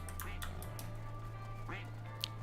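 Ducks quack in the farming video game No Place Like Home, a few short quacks over a steady low electronic hum.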